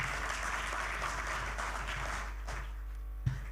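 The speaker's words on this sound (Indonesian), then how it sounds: "saya minta tepuk tangannya dong biar meriah" A conference audience at an opening and keynote session gives steady, moderately loud applause that thins out toward the end, leaving a low hum beneath it.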